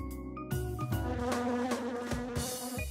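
Cartoon flies buzzing in a comic scene, a dense insect drone layered with busy cartoon music and tonal effects that run steadily through the moment with no talking.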